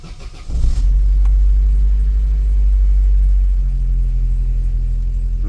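A fuel-injected Vauxhall Astra engine cranks briefly, catches, and settles into a loud, steady low idle, heard close and without talk.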